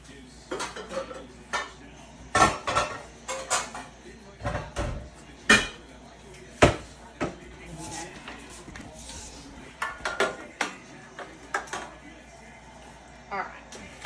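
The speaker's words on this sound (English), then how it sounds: "Let me grab some other kind of pan real quick." A metal pan being grabbed and handled in a home kitchen while making smash burger tacos, with irregular clanks and knocks of cookware and utensils against a cooktop, close by, amid quiet talking.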